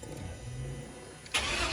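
A 1979 Chevy El Camino with an LS swap cranks briefly and fires, catching with a sudden loud burst that settles into a steady, close idle rumble.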